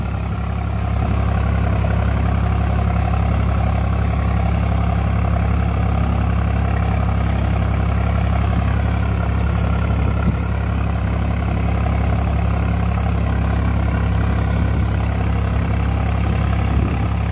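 A Swaraj tractor's diesel engine runs steadily in high first gear, a loud, constant low rumble with an even drone that holds unchanged for the whole stretch, no voices over it.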